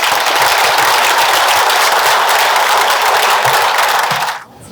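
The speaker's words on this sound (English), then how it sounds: "And please stand for applause." Audience applause at a Rotary Christmas gathering in Chilliwack: sustained, dense clapping from a large crowd filling the room, steady and loud for over four seconds before cutting off abruptly.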